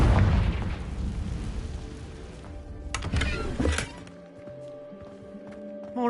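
In Hogwarts Legacy, the Confringo blasting spell sets off a heavy, rumbling explosion, followed by a few sharp cracks and a decaying tail. The sound fades into a quiet hum.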